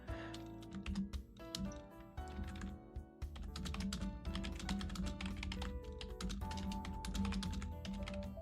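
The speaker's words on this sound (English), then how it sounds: "it's my keyboard" Steady typing on a computer keyboard, rapid clattering keystrokes with brief pauses, fairly quiet and close.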